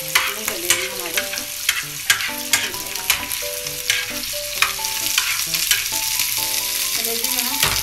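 Beef liver and onions sizzle loudly on a hot tawa in a dhaba-style street food setting, with steady frying hiss broken by repeated sharp metallic scrapes and clangs of a spatula stirring and chopping close by.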